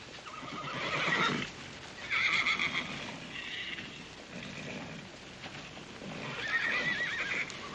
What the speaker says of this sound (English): Mr. Tabor, I've got some horses up for auction here